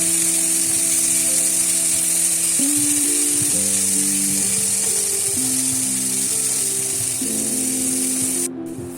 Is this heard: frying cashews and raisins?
yes